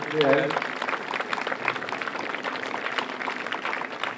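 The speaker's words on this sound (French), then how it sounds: "vous pouvez l'applaudir bien fort" Applause from a crowd at a heritage day talk rattles on steadily as a dense wash of clapping, with a voice briefly audible near the start.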